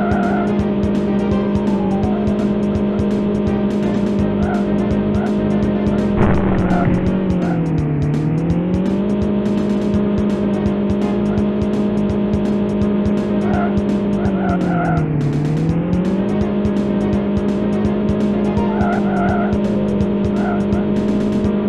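Synthesized retro video game engine drone from the kart racer Street Racer, a steady buzzing tone that dips in pitch twice, with tire squeal effects, continuous and even in loudness.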